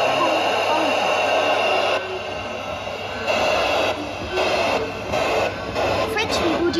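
A model train at the Vendée Miniature model village in France whirs and rumbles steadily nearby, its running hum pulsing slightly as it moves.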